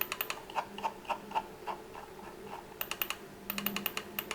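A TeeVolution Terra Pro 8K ergonomic computer mouse is scrolled and clicked at close range, faint ratcheting scroll ticks in a quick run, then several crisp clicks in tight bursts, with no voices.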